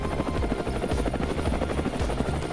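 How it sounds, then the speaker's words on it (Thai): A patrolling helicopter flies overhead in a survival video game, its rotor chop a continuous thudding pulse with a high whine above, loud and steady throughout with no talk. "เฮลิคอปเตอร์ลาตะเวนเหลือเกินครับ"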